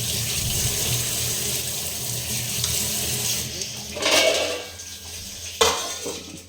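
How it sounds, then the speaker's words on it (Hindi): Hands are washed under a running kitchen tap, steady water flow with faint clinks of dishes, then louder splashing and a sharp knock near the end. "हाथ धो लेते हैं।"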